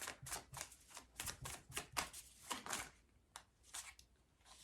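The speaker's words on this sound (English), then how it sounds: "let me pull a card to see if I should say it" Soft, quiet card-handling sounds as a tarot card is pulled from the deck: a run of quick, faint riffling and flicking ticks, close by and alone.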